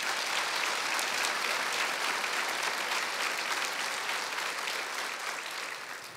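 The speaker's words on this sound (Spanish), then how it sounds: "Dar un fuerte aplauso al Señor." Congregation at a church sermon gives a strong round of applause, a continuous even wash of many hands clapping, slightly distant, fading gently at the close.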